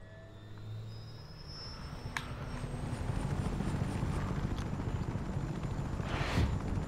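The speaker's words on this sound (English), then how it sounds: "This is a big helicopter." Large helicopter in the video game Just Cause 3, a steady low rotor chop and whine that swells slightly louder over the span, with a brief mechanical clatter and faint game effects layered in, no talking.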